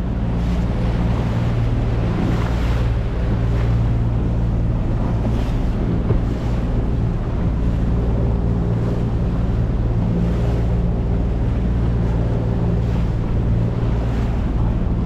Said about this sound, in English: Look at that, that's a dangerous surf.